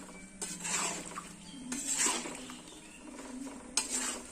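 Mango pickle being stirred in a pan, with quiet spoon scrapes and clinks coming in a few separate strokes over a faint sizzle.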